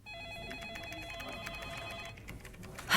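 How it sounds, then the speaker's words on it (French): Telephone ringing with repeated electronic trills in a steady pulsing pattern, fairly loud and close, stopping near the end before a short burst of noise. "ces sonneries insupportables qui m'envahissent toute la journée"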